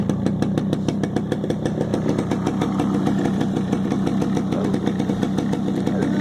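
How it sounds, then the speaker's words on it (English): A cold Yamaha RXS 100 motorcycle idles after three months unused, running with a steady, close, even putter and a slight low grumble from the bottom end, with no voices over it. "A little bit of a bottom end grumble. Nothing too bad, it is cold still."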